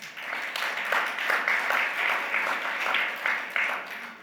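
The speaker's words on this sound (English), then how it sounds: "And let's really give them a round of applause." An audience at an agricultural outlook conference applauds, a dense burst of clapping with a few louder swells, moderately close, with no talk over it.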